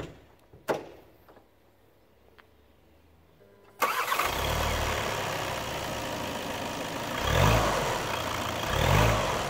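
A couple of clicks, then the 2.0 TDI Evo engine of a Skoda Superb III facelift starts up and settles into a steady diesel idle, with a few low surges in revs near the end.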